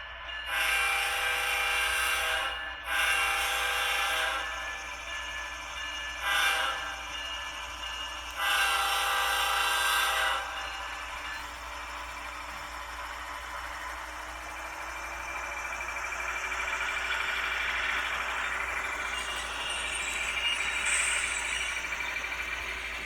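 An HO-scale ScaleTrains BNSF ET44C4 model locomotive with a LokSound v5 sound decoder rumbles past, with several loud horn-like blasts early on, then a steady diesel drone that swells as it nears.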